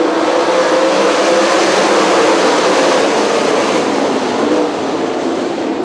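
ASCS sprint cars racing into turns one and two in a feature race, a loud dense roar of several engines that stays steady and fills the whole stretch with no voices.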